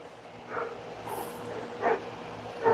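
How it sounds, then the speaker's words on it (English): Dogs bark in a few separate yips and bow-wows at moderate distance, the loudest near the end, over a low background rumble, with no speech. "The fuck are they barking about?"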